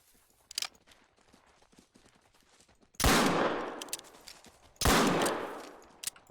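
Two loud handgun shots ring out in the hunting game theHunter: Call of the Wild, about two seconds apart, each with a long echoing outdoor tail, after faint rustling and footsteps.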